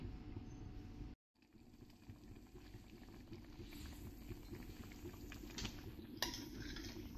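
Tur dal kadhi gole in a covered pot on a low flame, a steady soft bubbling simmer that runs continuously, broken only by a brief moment of silence near the start.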